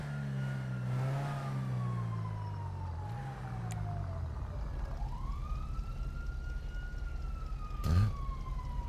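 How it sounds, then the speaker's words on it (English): A police car siren in the GTA 5 video game wails in long, slow rising and falling sweeps, fairly faint, over a low engine rumble, with a short sharp burst near the end. "Sirens are starting to give me some PTSD here."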